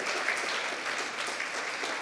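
Steady, dense applause from a church congregation praising the Lord during an evening service, continuous and fairly close, with no pauses over its short length.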